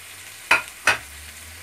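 Two sharp scraping strokes of a utensil stirring frying eggplant in a pan, about a third of a second apart, over a quiet steady hiss.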